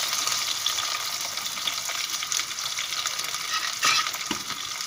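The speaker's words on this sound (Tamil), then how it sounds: "சின்ன வெங்காயத்தை சேர்த்து நல்லா வதக்கிக்கோங்க." Small onions (shallots) sauté in oil with mustard seeds, a continuous bright sizzle with stirring scrapes and a sharper clatter near the end, close and fairly loud, nobody speaking.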